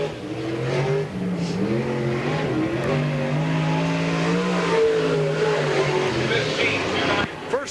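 Semi-late race car lapping Tyler County Speedway in 1995, its engine droning steadily with rising and falling pitch as it circles, a constant loud roar with an announcer talking over it throughout.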